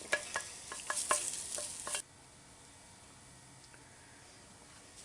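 Thick, concentrated tomato paste frying for a chile dish is stirred in a pot with a series of crackly scrapes and sizzles, which stop abruptly partway through and leave quiet room tone.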